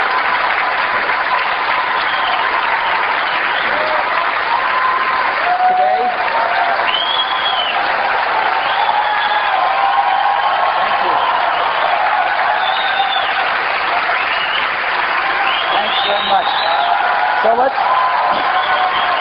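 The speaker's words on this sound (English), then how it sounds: "It's a lot of applause when you guys do all the work." A large keynote audience at a 1999 Apple special event breaks into sustained, loud applause that holds steady throughout, mixed with scattered cheers and whoops.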